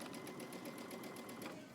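A sewing machine stitches a dress hem along a slit, a quiet, rapid, even run of needle strokes ticking in a steady rhythm for a short stretch.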